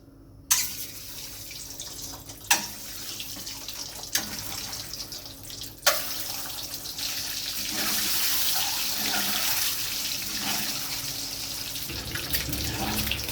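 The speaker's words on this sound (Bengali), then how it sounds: "তেল গরম হয়ে গেছে ডিমগুলো আমি হালকা করে ভেজে নেব" Eggs hiss and sizzle steadily in hot oil after a few sharp clacks and pops at the start, the frying growing fuller and louder; no speech.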